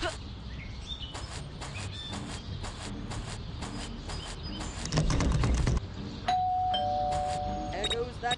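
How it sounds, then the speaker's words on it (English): A doorbell rings inside the video game Scary Teacher 3D, a sustained tone appearing partway through alongside footsteps and game noises, moderately loud over a busy background. "There goes that stupid bell again."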